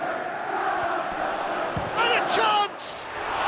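Crowd applause and cheering fill the stadium in a PES football simulation of Chelsea against Manchester United, a steady loud roar under a commentator's excited voice.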